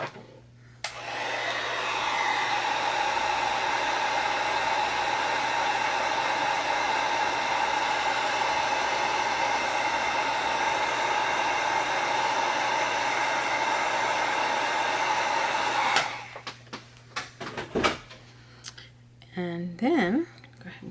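A heat tool runs steadily for about fifteen seconds, drying a sprayed paper flower on a handmade card, with a constant loud whooshing hum. It then cuts off, leaving light tapping and handling noises.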